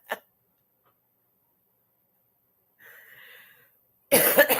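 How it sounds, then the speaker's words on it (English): One sharp cough at the very start, then near silence, a faint murmur and a loud burst of noise at the end, with no clear talk. "I still have a cough"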